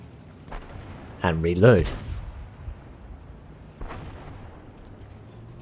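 Artillery shells land in a World of Tanks battle, heard as dull, distant booms beneath a voice speaking over the game.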